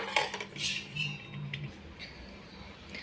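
Metal pot and cutlery clink and scrape while water is set to heat for wheat kurdai, a few bright clattering knocks early on, then quieter handling close by.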